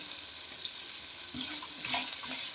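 Onion and turmeric frying in oil in a pan over medium heat, a quiet steady sizzle with soft stirring scrapes toward the end.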